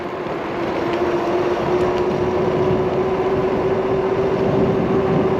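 A Heybike Mars 2 1200W electric bike cruises on throttle alone, a steady high motor whine riding over constant loud wind and road rush that holds unchanged throughout.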